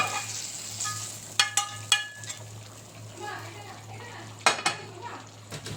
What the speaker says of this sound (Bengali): চিকেনটার সাথে এটাকে ভালো করে মিক্স করে দেবো